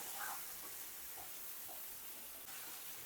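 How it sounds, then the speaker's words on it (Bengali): Raw mango frying in oil with spices for a pickle gives a soft, steady sizzle and hiss in a pan, fairly faint, with a few light stirring clicks and no talk. "আমি ভালো করে আমটাকে কিন্তু তেল আর মশলার সাথে কিন্তু একটু ভাজা ভাজা করে নিয়েছি"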